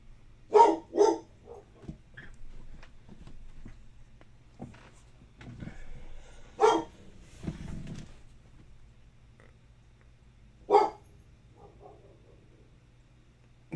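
Bella the dog lets out a few sharp barks on command, a quick pair near the start, then isolated single barks, with quieter gaps and low background hum between them.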